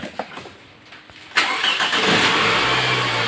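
A Toyota Camry with a 1AZ engine, freshly overhauled, is heard starting. After a few faint clicks the starter cranks briefly and the engine catches, settling into a steady, fairly loud running sound.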